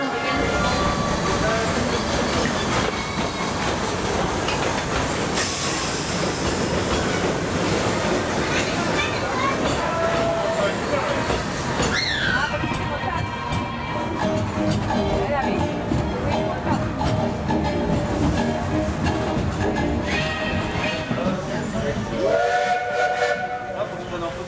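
Disneyland Paris steam train pulling in at a crowded station during Christmas season, with rumbling wheels, hissing steam and a rising whistle-like tone near the middle, all under constant crowd chatter and talk.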